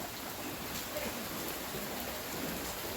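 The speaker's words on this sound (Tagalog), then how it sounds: "Talagang buhos pa rin ang ulan." Steady, dense rain pours down, a continuous hiss of drops striking surfaces with no pauses or voices.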